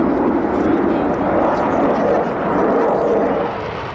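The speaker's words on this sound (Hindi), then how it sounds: "ये ब्रिटेन का यूरोफाइटर है।" A steady, loud jet roar with broadband rumble, sustained throughout and easing slightly near the end, as a British Eurofighter Typhoon passes overhead.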